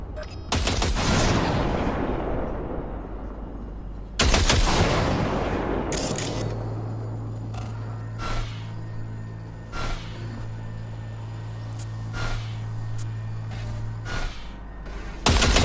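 Gunfire at targets in the video game Cyberpunk 2077, with a few loud booming shots and bursts echoing away, then sharper single cracks over a steady low hum, close and loud.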